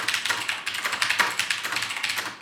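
Rapid typing on a Logitech G610 Orion keyboard with Cherry MX Brown switches, a dense close run of crisp tactile key taps at a fast, even pace with no talking.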